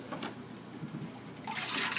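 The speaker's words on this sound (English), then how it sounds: "So we get the water going" Water running into a container for soaking decorative coral with bleach, a soft steady splashing trickle that swells brighter toward the end.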